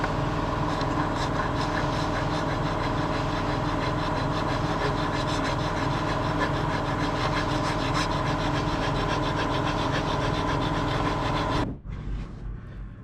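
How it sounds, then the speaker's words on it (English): A car engine sump flange on a 750bhp Cupra rebuild is sanded flat with a power sander, giving a loud continuous whirring rasp that runs steadily before cutting off near the end. "I did have to sand this down quite a lot"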